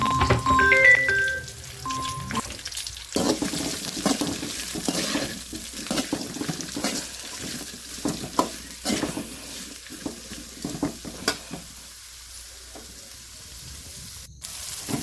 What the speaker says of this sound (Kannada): ಈರುಳ್ಳಿ ಮತ್ತು ಮೆಣಸಿನ್ಕಾಯಿ ಹಾಕಿ ಹಾಗೆ ಫ್ರೈ ಮಾಡ್ಕೊಳ್ತಾ ಇದ್ದೇನೆ